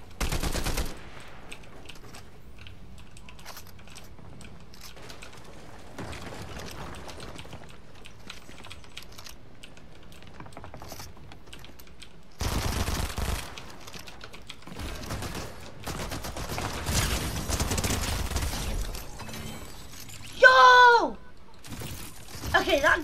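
Rapid bursts of video-game gunfire crackle through the middle and end of the stretch, loud and close, with quieter keyboard-like clicking and faint game noise in the gaps.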